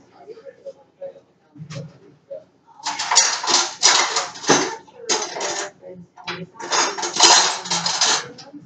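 Metal cutlery clatters and clinks as a teaspoon is fetched from a kitchen drawer while baking Christmas brownies. Several bursts of jangling rattle stand out close by, with quieter handling sounds between them.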